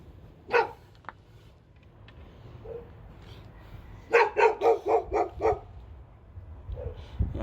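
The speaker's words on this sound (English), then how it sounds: "Yeah, dogs." Dogs bark outdoors near a metal gate: one sharp bark early, then a rapid run of about six loud barks in a row, with a few softer yips and whimpers between and no talking.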